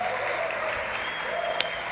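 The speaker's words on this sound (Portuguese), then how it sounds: "Aplauda o Senhor nessa manhã." A church congregation claps steadily during a pastors' gathering in Brazil, a continuous wash of applause for about two seconds with faint voices underneath.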